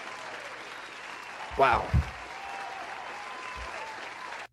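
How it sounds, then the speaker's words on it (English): Steady applause hisses quietly and evenly in the background throughout. Partway through, a voice exclaims loudly once over the clapping. "Round of applause."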